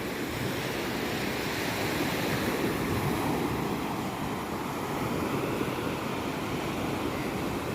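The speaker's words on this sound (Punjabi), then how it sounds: "ਇੱਥੇ ਸਮੁੰਦਰ ਆਪਾਂ ਵੇਖੀ ਜਾਈਏ ਲਓ ਇਹ ਵੇਖੋ" Sea waves wash in at Miramar beach in Panaji, a loud, continuous roar of surf mixed with wind buffeting the microphone and no pauses.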